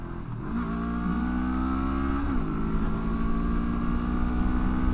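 A Honda NX500 adventure motorcycle's engine revs hard at full throttle, a loud near buzzing drone that climbs in pitch, dips briefly at a shift, then climbs again toward redline with a slight buzziness.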